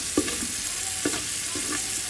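Beaten eggs fry and are stirred in a pan for vegetable fried rice, giving a steady sizzle broken by a few soft scraping strokes.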